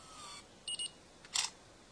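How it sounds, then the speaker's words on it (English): A phone camera fires its shutter in a quiet room: a short double beep, then a brighter synthetic click a moment later, both faint and crisp. "We've got the shutter button at the side here"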